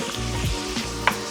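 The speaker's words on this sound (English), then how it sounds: "So I'm going to let this sweat for about 7-8 minutes until the onions and leeks are translucent" Onions and leeks sweat in a hot pan with a loud, close, steady sizzle and frying crackle, plus a few soft stirring scrapes and one sharp tap near the end.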